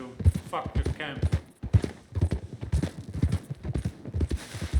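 Horse hooves in Red Dead Redemption 2 clip-clopping in a steady, close walking rhythm, heard under someone talking.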